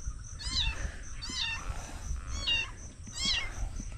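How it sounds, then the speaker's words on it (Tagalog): A dumped stray cat near a farm hut meows four times in a row, each call fairly clear and close, over low background noise. "may nagtapon na naman ng pusa"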